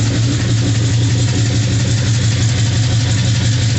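A 1972 Chevy truck engine idles steadily with a deep, throaty exhaust rumble, close and loud, holding an even low drone without revving throughout.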